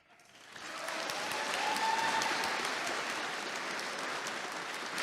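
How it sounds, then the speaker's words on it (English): Audience applause at a political debate, a dense sustained clapping from a large crowd that swells quickly and holds steady for several seconds with no talking over it. "to hear the claps is crazy"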